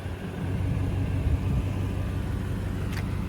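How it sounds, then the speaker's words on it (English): A 2007 Ford E-350 wheelchair van with a high roof and side lift idles nearby, its engine giving a steady low rumble throughout with no talk over it. "the vehicle needs to be running like it is"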